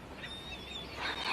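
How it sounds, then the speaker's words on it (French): Gulls calling over Istanbul, a thin drawn-out cry rising and fading above a constant windy, noisy background, somewhat distant, with a louder honking call near the end. "Les goélands."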